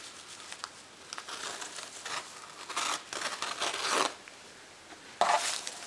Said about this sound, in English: I take my scissors and it just glides right through